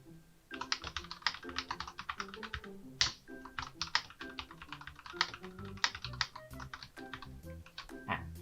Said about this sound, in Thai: ทีนี้เดี๋ยวผมลองพิมพ์อะไรลงไปสักนิดหนึ่งก่อนนะครับ